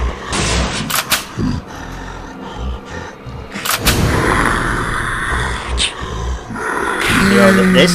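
Shotgun blasts in the video game Deadly Premonition, several sharp booming shots spread through the clip amid game music and effects, with a voice speaking at times.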